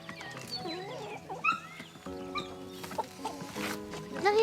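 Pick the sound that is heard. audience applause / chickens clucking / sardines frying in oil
chickens clucking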